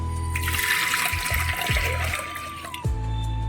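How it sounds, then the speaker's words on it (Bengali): Water poured into a pressure cooker holding chana dal, a steady close splashing gush lasting about three seconds before cutting off to a low hum. "এবার আমি জল দিয়ে দেবো।"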